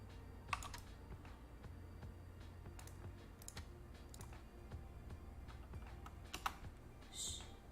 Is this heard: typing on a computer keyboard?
yes